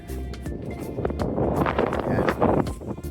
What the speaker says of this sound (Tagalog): Uy, lakas ng hangin, ang lamig.